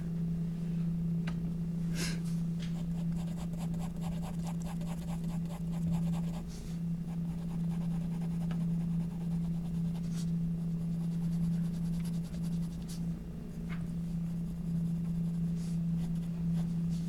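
Graphite pencil sketching on paper makes faint, close scratchy strokes in short bursts over a steady low electrical hum, no voices.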